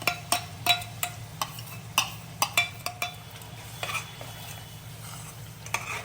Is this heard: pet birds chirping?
no